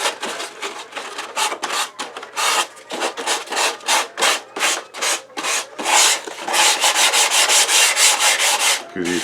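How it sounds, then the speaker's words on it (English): 150 grit silicone sandpaper rubbed over molded styrofoam inside a 5,000 BTU LG window air conditioner, giving close, loud rasping strokes in a steady back-and-forth rhythm that speeds up into quicker, shorter passes toward the end. "This is 150 grit silicone sandpaper, so you want to smooth out the airflow"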